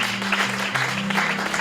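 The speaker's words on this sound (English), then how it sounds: "Clap your hands for God." A church congregation clapping their hands during a worship service, a loud, steady wash of many hands over a sustained organ-like tone, continuous throughout.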